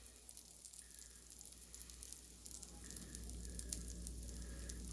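Sourdough discard pizza dough sizzling in a cast iron skillet preheated to 425, a soft crackling hiss that grows fuller and steadier partway through.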